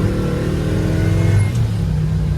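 A 1967 Chevelle SS 396 with a four-speed gearbox drives along, its deep engine rumbling steadily and loudly up close, with a slight rise in revs partway through and no talking.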